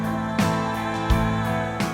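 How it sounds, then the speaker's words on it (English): Sustained harmonized vocal aahs hold steady chords over a Band-in-a-Box RealTracks band backing, with soft accents recurring every second or so. "we're hearing the vocals sing Aahs"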